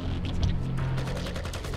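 Sustained gunfire in the video game Project I.G.I., a dense burst of rapid shots with booming low-end thuds running continuously throughout, loud and close with no talking over it.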